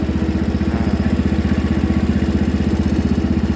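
A Wheel Horse 312-8 garden tractor engine runs steadily at about one-third throttle, a loud, close, evenly pulsing putter with no breaks or voices.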